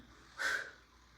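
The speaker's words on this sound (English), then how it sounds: "You can hear me breathing." A single sharp, forceful exhale, like a huff of breath during effort, standing out briefly against a quiet background.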